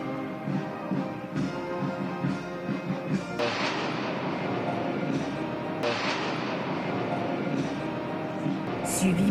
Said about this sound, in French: Voilà la très attendue patrouille de France avec 9 avions